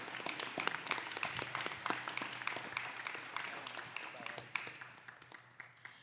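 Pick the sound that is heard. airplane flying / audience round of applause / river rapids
audience round of applause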